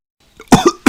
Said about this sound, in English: Poor Pedro Pony has a nasty cough.